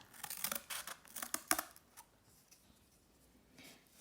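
Scissors snip out small paper pieces in a craft activity, a quick run of sharp close cuts in the first two seconds, then quieter scattered snips and paper rustle.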